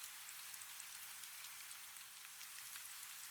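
Soft, steady rain falls in a calm night scene, a faint, even hiss of fine drops with scattered tiny ticks and no voices.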